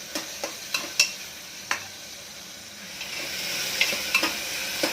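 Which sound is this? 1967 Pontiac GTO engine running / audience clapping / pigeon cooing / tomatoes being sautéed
tomatoes being sautéed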